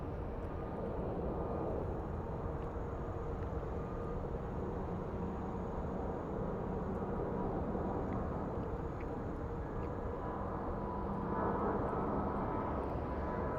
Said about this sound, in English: So let's see where that 767 is. I think he's at the end of the runway.